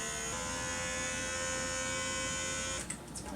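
A small electric vacuum sealer pump draws air through the port of a jar lid holding dehydrated food, giving a steady close-up motor buzz that shifts in tone near the end as the seal takes hold.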